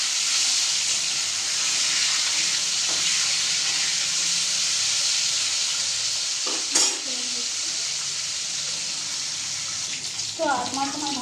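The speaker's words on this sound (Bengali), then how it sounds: "তেল গরম হয়ে গেছে, আর আমি মাছ ছেড়ে দেবো।" Fish sizzles steadily in hot oil in a pan, a continuous loud frying hiss that runs the whole time, with a few brief clatters and stirring sounds near the end.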